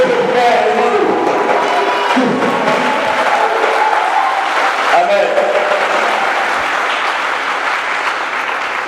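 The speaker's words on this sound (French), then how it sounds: "Les acclamations que vous venez de faire" A church congregation at a worship service for peace cheers and applauds loudly, a dense roar of clapping mixed with shouts and voices, close and sustained throughout.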